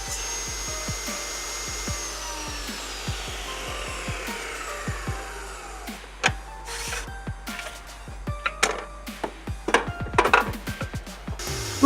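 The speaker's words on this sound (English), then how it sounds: "I'm just going to cross-cut these on the table saw." Wood boards being cross-cut on a table saw, the blade whining steadily with repeated clicks and knocks, building to louder cutting bursts toward the end.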